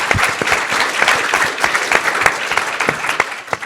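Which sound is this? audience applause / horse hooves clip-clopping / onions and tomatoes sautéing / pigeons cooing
audience applause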